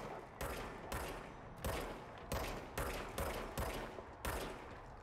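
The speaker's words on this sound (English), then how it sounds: "So you can fire the service weapon." Seven sharp, evenly spaced shots from the service weapon pistol in the game Control, each a crisp close bang with a short tail, fired steadily with no talking.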